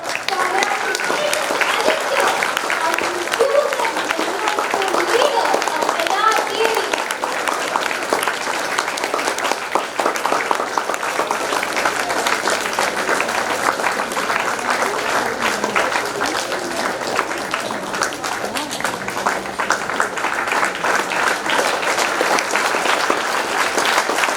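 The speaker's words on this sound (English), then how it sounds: "Please give them a huge round of applause." Sustained, loud audience applause at a school swearing-in ceremony, dense clapping holding steady for the whole stretch with no lull.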